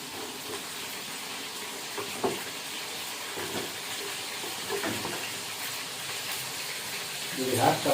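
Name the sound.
cassava frying in oil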